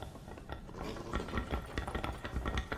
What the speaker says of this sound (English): Love the sound of their wee hoofs on the concrete.